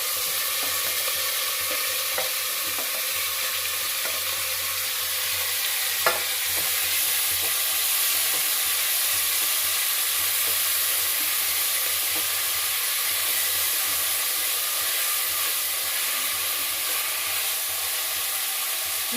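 Tomatoes and radish fry for sambar in a pan, giving a loud, continuous close sizzle and hiss with faint stirring scrapes and one sharp clack partway through.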